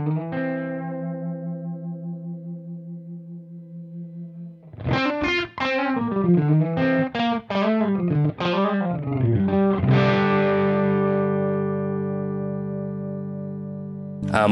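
An electric guitar plays through a Sunn Model T amp model on a Line 6 Helix, heavily distorted: a long sustained chord rings out, then a run of quick picked notes, then another held chord ringing and fading.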